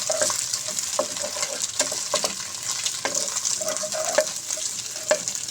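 Carrots frying and sizzling in a pan for Chinese rice, with steady hiss and repeated scraping stirs of a utensil at close range, no talk.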